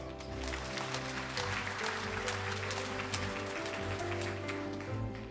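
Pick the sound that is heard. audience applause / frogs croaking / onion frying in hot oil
audience applause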